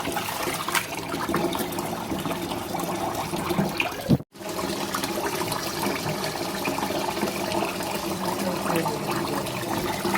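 Basmati rice being rinsed in water, a steady close wash of sloshing and trickling liquid with a brief break midway before the swirling resumes.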